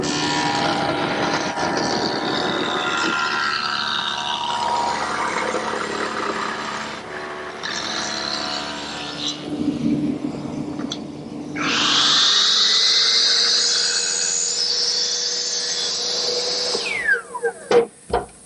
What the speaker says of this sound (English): with the stacked dado head cutter set up in my table saw for a 3/4 inch width, I'm going to run a groove down the center of the piece of maple